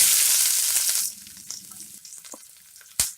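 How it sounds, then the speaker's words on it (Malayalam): Shallots and green chillies hit hot oil with popped mustard seeds, a loud hissing sizzle that fades into quieter crackles and a few stirring clicks, ending with one sharp clack. "അതിലേക്ക് നമ്മൾ എടുത്ത് വെച്ചിരിക്കുന്ന ചെറുള്ളിയും പച്ചമുളക് ഇട്ട് കൊടുക്കാം."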